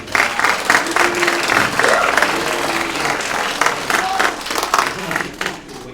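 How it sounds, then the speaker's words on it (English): A dinner crowd at a celebration bursts into a loud, sustained round of applause, many hands clapping densely and evenly for several seconds before tapering slightly toward the end. "Please give him a round of applause."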